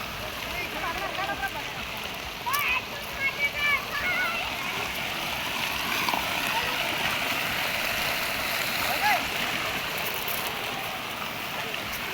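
Rushing floodwater flows and splashes steadily toward Jayakwadi dam, a dense continuous wash with brief voices and shouts faintly over it.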